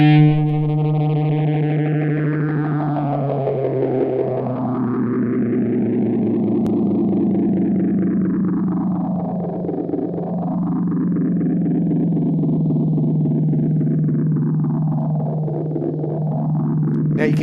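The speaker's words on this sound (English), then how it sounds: "Now you can hear the phaser working on that." A sustained guitar chord passes through a phaser effect pedal, its tone sweeping slowly up and down in repeating whooshing arcs, loud and continuous with no talking.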